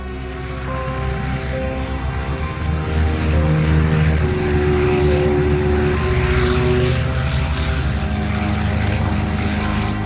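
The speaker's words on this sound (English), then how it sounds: "Admiral Byrd's aircraft flew 500 feet above the geographic South Pole." Propeller aircraft engines from Admiral Byrd's 1929 polar flight over the South Pole drone loudly and continuously with a steady throbbing hum, as if heard from inside or near the plane, with no speech.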